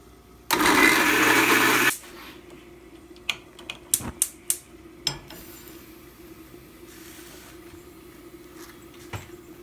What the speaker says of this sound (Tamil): தக்காளியும் வெங்காயத்தையும் கொஞ்சம் மிக்சியில் ஒரு அடி அடிச்சிடணும்.